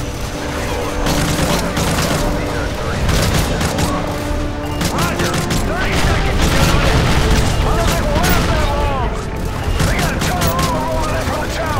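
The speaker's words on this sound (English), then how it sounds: "Gonna just use a minigun." Sustained minigun fire in the video game Call of Duty MW3 roars continuously for about twelve seconds, layered with dense game battle noise and a voice talking over it.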